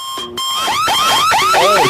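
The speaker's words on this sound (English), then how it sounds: "Oh, my security alarm went off." A security alarm blares loud and close, first a steady tone, then a run of rising and falling electronic whoops that repeat faster and faster.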